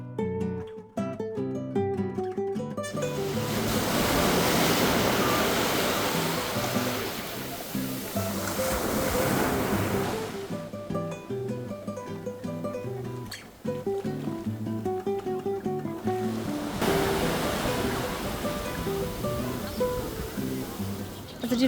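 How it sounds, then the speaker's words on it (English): Big waves breaking on a shallow sandy beach at Tamarit on the Costa Dorada, Spain, a steady loud surf roar running throughout, heard under background music. "today again there are quite some big waves"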